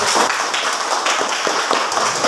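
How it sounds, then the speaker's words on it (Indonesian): A classroom of students claps hands together for a couple of seconds, a dense, bright wash of many claps with faint rhythmic surges and no talk. "Mari kita tepuk tangan untuk semangat."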